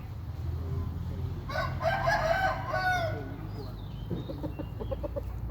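Young fighting roosters spar with padded spurs, one crowing loudly in the middle and clucking following, close by, with a low hum throughout.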